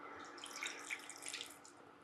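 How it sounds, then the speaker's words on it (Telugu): Water pours steadily into a cooking pot for a yogurt-based slimming drink, a continuous splashing trickle close by with no talk. "సో కొంచెం వాటర్ వేసుకుందాము"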